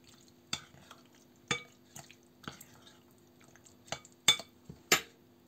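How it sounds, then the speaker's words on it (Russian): A spoon scrapes and clinks around a bowl while a mixture for a sugar-free, flour-free apple pie is stirred, with irregular taps spread out over a low hum. "Перемешиваем."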